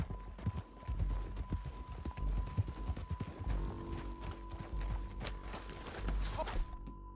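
Horse hooves clop at a walk on a trail in Red Dead Redemption 2, steady close hoofbeats with a faint tonal hum and low rumble behind them, a bright clank near the end.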